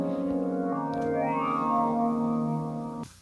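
A sustained synthesizer chord from a Deluge groovebox rings out through its Mutable Reverb with a washy tail, tones layered and shimmering before cutting off abruptly near the end.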